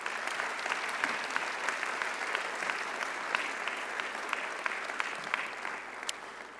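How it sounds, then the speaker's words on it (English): Steady audience applause at an interfaith assembly evening forum, a dense sustained patter of many hands clapping, moderately loud and even throughout with no voices on top. "another round of acclamation and applause"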